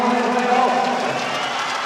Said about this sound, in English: The Leopards fans are still loud.